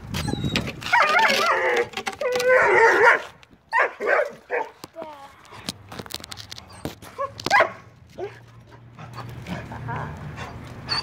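Several dogs bark, yip and pant as they chase each other outdoors, with bursts of close, excited barking and whimpers. People talk over them, and a low hum runs underneath later on.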